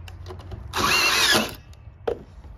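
A power drill drives a Camo screw into a deck board in one short burst of under a second, close and fairly loud, followed by quiet handling clicks.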